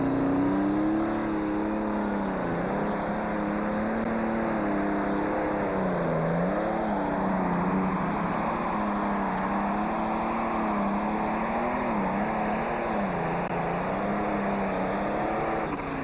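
A pulling tractor at a Bowling Green tractor pull roars loud and steady for the whole stretch, its engine tone rising and falling in long waves as it hauls down the track.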